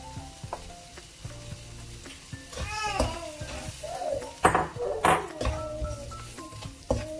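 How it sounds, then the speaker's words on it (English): Roasted semolina tipped into a pan and stirred for upma, with a spoon scraping and clattering against the pan over a low sizzle, amid busy kitchen noise and brief background voices. "And now you add the roasted semolina."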